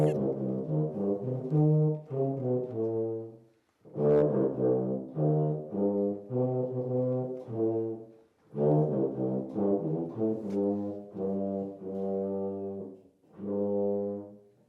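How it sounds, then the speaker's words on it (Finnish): A Finnish bass horn plays a slow folk tune in long sustained low notes, phrases separated by short breaths, close and clear with no talking. "rupesi soittamaan passotorvella sitä hoosina, kun tuo poika koko ajan tahtoi sitä hoosia"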